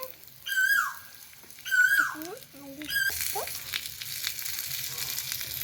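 Potatoes go into a hot pan and fry with a crackling sizzle that builds after about three seconds and keeps going. Before that, squeaky whistling tones come in short bursts, and a voice speaks briefly.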